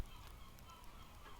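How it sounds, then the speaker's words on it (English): Seagulls squawk outside a beach house close to the shore, their calls faint and distant over a low, steady room hum. "if you hear seagulls outside squawking"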